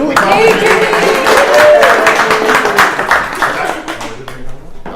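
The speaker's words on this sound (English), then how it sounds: "you didn't clap for Judy" An audience at an academic institute session claps, a burst of close, loud overlapping hand claps that thins out and fades toward the end while a voice speaks over it.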